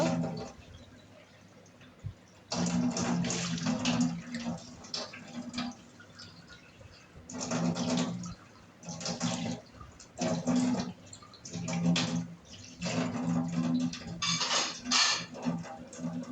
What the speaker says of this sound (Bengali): আমার এই যে প্লেটগুলোও ধোয়া হয়ে গেল